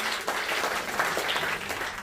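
A church congregation applauding during a pastor's sermon, a steady, moderately quiet wash of many hands clapping with slight swells, no voices over it.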